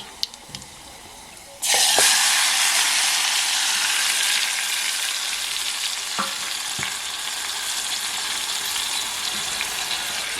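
Masala and garlic hit hot oil with a sudden loud sizzle after a quiet start, then a steady crackling fry continues with a few light clinks of a utensil.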